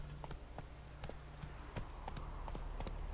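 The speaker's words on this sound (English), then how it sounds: "He really is a magical horse." A horse's hooves clip-clop at a walking pace in The Witcher 3 video game, an irregular series of soft thuds under a low background hum.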